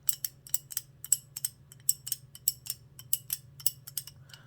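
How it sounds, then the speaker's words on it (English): A BlackHawk 1/2-inch drive twin pawl ratchet clicks rapidly and steadily in reverse, a run of sharp metallic ticks, close up, with a faint low hum underneath. "it has a pretty distinct sound here, easier to hear in reverse"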